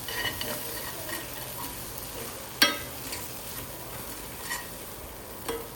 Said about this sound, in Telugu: దాన్ని అంతా బాగా కలిసిపోయేటట్లు కలిపేసుకోవాలి